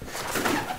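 A pigeon coos once in a soft, rolling call, close and fairly clear over faint outdoor background, with no talking.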